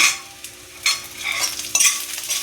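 Ginger and garlic dropped into a pan with lightly browned coconut, frying and sizzling with bursts of stirring scrapes, close and fairly loud with no talk.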